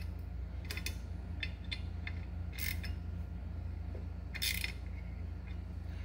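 A bearing is pressed onto a Club Car golf cart motor shaft by tightening bolts, giving sparse, faint metallic clicks and ticks over a low steady hum.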